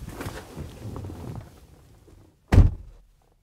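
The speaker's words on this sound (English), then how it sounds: "Or you can enter through the main driver door." After some quiet low rustling, the driver door of a 2014 Thor Four Winds Chateau Super C diesel motorhome thunks shut nearby, followed by near silence.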